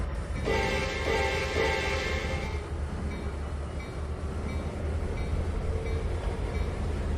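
A train runs in the Trainz 2019 simulator, a steady low rumble of the engine and rolling cars with a brief bright tonal whine near the start.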